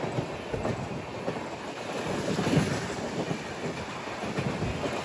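A MEMU passenger train heading to Bhimavaram Junction, heard from inside as a steady rolling rumble with faint clickety-clack of wheels over rail joints and wind noise against the microphone.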